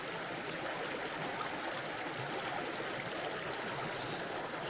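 Steady, dense hiss of heavy rain pouring onto an open river or lake, a constant broadband wash with no pauses and no voices.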